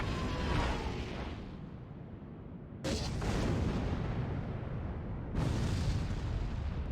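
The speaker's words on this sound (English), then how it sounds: "a goddamn laser cannon from the sky" Laser cannon blasts fired from the sky in Ace Combat Zero, two heavy booming bursts that cut in abruptly and roll on as dense rumbling roars, with no talk.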